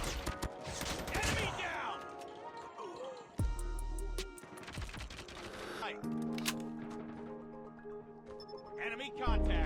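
Gunfire from the Call of Duty Mobile shooter game, played on a rugged phone: bursts of rapid shots and mixed game effects with in-game voice callouts, dense and busy throughout, ending in a heavy low boom.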